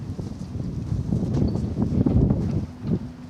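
A horse cantering during a saddle fit, steady rhythmic hoofbeats thudding close by on soft ground, with no talk.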